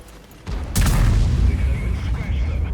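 A single heavy cannon shot from a Grille 15 tank destroyer in World of Tanks: a deep, loud boom with a sharp onset that rolls on in a low rumble, with a voice faintly beneath.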